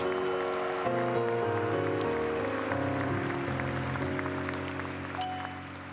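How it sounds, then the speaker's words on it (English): The audience at Stockton University's 2023 spring commencement ceremony applauds in a broad, sustained wash of clapping, mixed with steady tonal music that shifts in pitch, tapering off slightly at the end. "Let's give her another warm round of applause."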